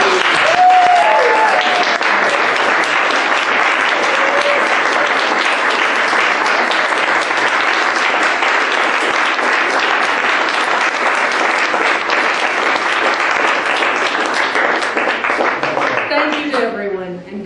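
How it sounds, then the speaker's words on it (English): Meeting attendees give a standing round of applause, dense sustained clapping from a room full of people that carries on strongly for many seconds before tapering off at the end. "I think we need to give one more standing round of applause for Dick Bennett for bringing us together."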